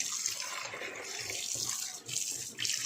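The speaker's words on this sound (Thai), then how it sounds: "ใส่เกลือ นิดหน่อย ล้างล้างให้สะอาดนะครับ" Tap water runs steadily into a sink while fish is rinsed clean with a little salt, a soft continuous splashing stream with small dips in flow.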